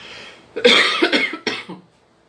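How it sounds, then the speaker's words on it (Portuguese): A woman with a cold coughs in a short burst of several harsh, close coughs, with a final cough trailing off after a brief pause. "se por um acaso eu começar a tossir, peço desculpas aí para vocês"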